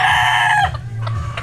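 Chickens cluck and a rooster crows near and loud in a backyard breeding flock with chicks and a nest of eggs, the crow's sustained call giving way to short clucks.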